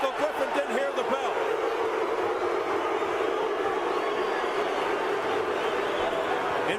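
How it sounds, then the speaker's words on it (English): Loud arena crowd at the Bernard Hopkins versus Jean Pascal boxing match between rounds: a dense, continuous roar of many voices with shouts and cheers, steady and unbroken throughout. "And a very loud crowd."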